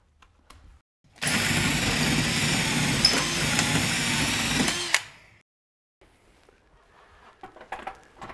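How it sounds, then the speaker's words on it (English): A power drill bores pilot holes into a wooden truss, running steadily for about four seconds with a whirring, grinding tone before stopping, followed by faint handling noises. "I'm going to pre-drill the holes."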